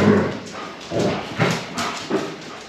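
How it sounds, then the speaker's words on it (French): Several dogs bark and growl in a few rough bursts, fairly close and loud, with a constant noisy background between them. "Les grognements, les aboiements."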